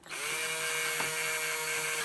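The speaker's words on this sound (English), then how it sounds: "Much more difficult to drill through since I put the shoe goo and drywall tape on the other side." Steady whine of a power drill boring through a Traxxas Slash RC car body reinforced with Shoe Goo and drywall tape, a close, continuous high-pitched drone that holds for about two seconds.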